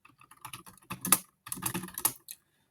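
A T-SQL query being typed on a computer keyboard: close, crisp keystrokes in two irregular bursts separated by a short pause, with a final lone tap, and no voice.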